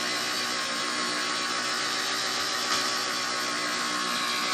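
A polishing machine buffs faded car paint with a constant, even whirring hiss. The noise is close and steady for the whole stretch and nothing else is heard.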